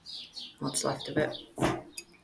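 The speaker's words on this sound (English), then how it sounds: "hear the birds tweeting" Small birds chirp and tweet outdoors through an open door, brief high calls scattered at moderate distance beneath a person speaking close by.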